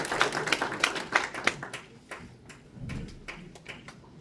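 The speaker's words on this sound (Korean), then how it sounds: "뜨거운 박수 부탁드립니다" Claps from a crowd at the launch ceremony of a provincial governor-elect's transition committee, first quick and fairly close, then thinning into scattered, separate hand claps.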